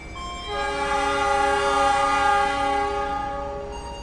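A Gajayana stainless steel passenger train sounds a long, loud, steady horn blast as it departs the station, holding for several seconds before fading slightly.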